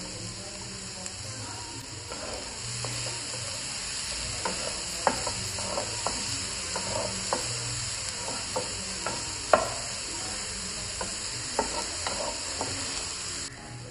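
Finely chopped onion with ginger-garlic paste fries in a pan with a steady sizzle, punctuated by regular scraping stirs of a spatula, close and without talk.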